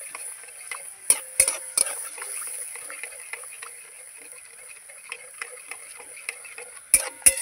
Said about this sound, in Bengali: দইটা দিয়ে কিন্তু অনবরত নাড়াতে হবে, নাহলে দইটা কেটে যাবে বন্ধুরা।